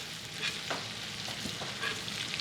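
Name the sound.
steak and shrimp searing in cast iron skillet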